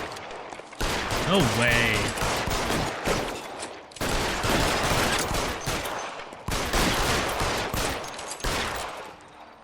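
Sustained rapid gunfire in LA Noire, long dense bursts of shots with brief pauses, with someone speaking briefly over the shooting.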